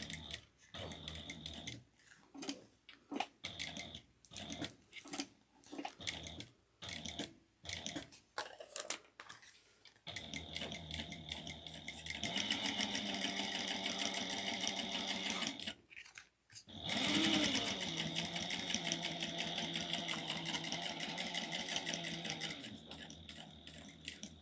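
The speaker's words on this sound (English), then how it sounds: "So I'm going to start, and I'm going to of course backstitch." A sewing machine backstitches a seam on a tote bag. It starts with short stop-start bursts of stitching, then runs steadily at close range, with one brief pause before the whirring stitch noise resumes.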